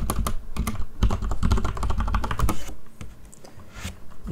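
Computer keyboard keys clatter in quick, uneven bursts as a password is entered, close and clear with no talking, the tapping thinning out toward the end.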